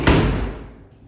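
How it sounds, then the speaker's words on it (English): A house door, closing a little tight, shuts with one close, solid thud, and the sound decays into room echo over about a second. "Door closes, a little tight."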